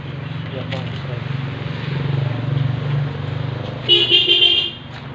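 A Yamaha X-Ride motorcycle idles with a low steady engine hum, then sounds a short, loud horn toot near the end, with a voice talking over it.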